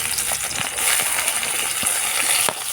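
Chopped onions frying in hot oil give a bright, steady sizzle with a few soft clicks and stirring knocks, close and fairly loud, with no talking.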